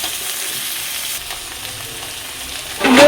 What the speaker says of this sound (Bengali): এবার কুচি করে কেটে রাখা আলু আর বেগুনটা দিয়ে দেবো এবার এটা ভালো করে ভেজে নিতে হবে